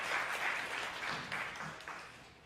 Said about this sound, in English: Round of applause for our Executive Director.